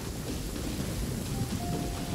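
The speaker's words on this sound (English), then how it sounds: "No, it's not raining, it's storming." A storm in the video game Genshin Impact: steady rain hisses with a low, rolling thunder rumble underneath, faint and continuous with no distinct thunderclaps.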